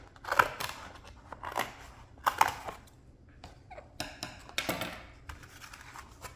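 Scissors snip through the top of a cardboard box being made into a parrot foraging box, in a run of short, fairly close cuts with brief pauses, and no talking.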